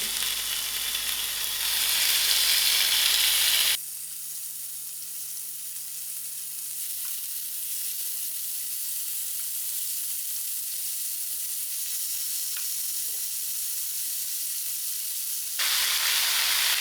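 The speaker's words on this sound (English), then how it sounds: "I'm going to allow this to fry till it browns nicely" Lamb chops fry in a hot pan with marinade, giving a loud, bright sizzle at the start and end. In between comes a quieter stretch with a steady, low hum.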